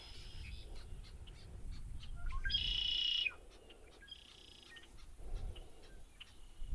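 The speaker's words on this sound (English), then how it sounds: "there's a bird right there on the, see how close we can get to him" A bird calls several times outdoors at Tyrrell Park wetlands in Beaumont, Texas, short bright chirps and a louder buzzy trill in the middle, over a low rumbling background.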